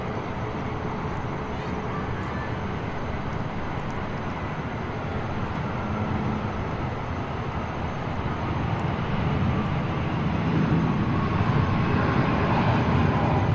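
DHL cargo aircraft from Hong Kong landing on runway 34 left at Sydney Airport, a broad continuous engine roar that holds steady and builds slightly toward the end, heard from a distance.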